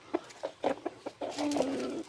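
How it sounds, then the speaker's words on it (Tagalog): Native chickens cluck in a backyard, a run of short close clucks followed by a longer sustained call, with no talking. "Backyard ng native chicken lang to."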